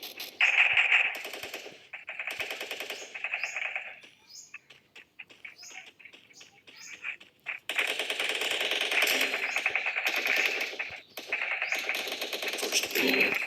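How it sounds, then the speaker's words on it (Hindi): Rapid automatic gunfire in the Free Fire mobile game crackles in dense bursts, broken by a quieter stretch of scattered shots before heavy firing resumes. "बहुत गोलियां चली, बहुत चली घूम फिर के।"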